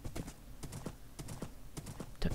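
Horse hooves clip-clop in Minecraft, a run of quick, fairly soft hoof taps in an uneven walking rhythm, with a slightly louder cluster of steps at the end.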